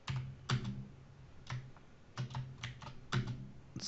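Keystrokes on a computer keyboard come in short bursts of quick clicks with brief pauses between them, close and clear, while a Windows 11 PowerShell command is entered. No voice can be heard.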